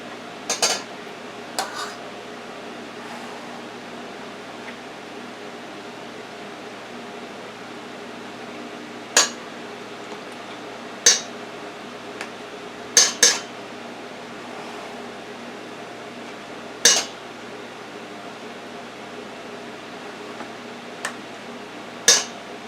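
Metal utensil scraping and tapping against the edge of a casserole dish of Italian sausage ziti being trimmed for an air fryer, a handful of sharp, isolated clicks and scrapes spaced apart over a quiet room hum.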